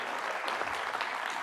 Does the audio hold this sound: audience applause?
yes